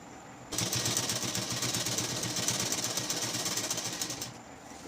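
A sewing machine running continuously as it stitches along the edge of lungi cloth, a fast even mechanical rattle that starts abruptly, holds steady for about four seconds and then stops, with no talk.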